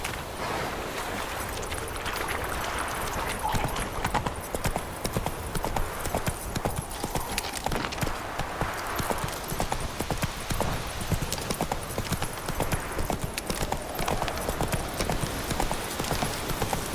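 Roach, Geralt's horse in The Witcher 3, gallops on and on, a fast rhythmic clip-clop of hooves held at a steady pace under faint wind and brief snatches of talk.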